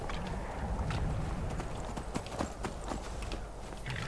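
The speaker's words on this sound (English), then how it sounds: "I want my horse to wait right outside." Continuous clip-clop of horse hooves at a brisk pace in Skyrim, close and fairly loud over a dense background of ambient noise.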